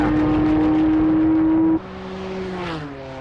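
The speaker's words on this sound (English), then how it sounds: "Henri Pescarolo in his 30th running, and again we see that Corvette limping in, being destroyed as it goes by the flailing remains of the tyre" A damaged Corvette race car at Le Mans in 1996 limps past on the remains of a shredded tyre, its engine a loud steady drone that drops in pitch as it goes by, close and without talk.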